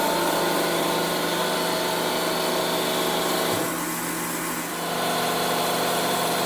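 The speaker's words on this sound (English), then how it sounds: "Now we are switching on the separator" Oil purification separator running steadily with its suction after being switched on, a continuous mid-loud mechanical hum and whine that dips briefly partway through before settling back to an even drone.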